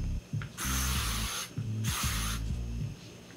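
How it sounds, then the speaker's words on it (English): Two close hissing bursts of Paul Mitchell heat protectant sprayed onto hair, each lasting under a second, with faint handling rubs and clicks of the bottle between them. "I'm going to go in with the heat protectant from Paul Mitchell"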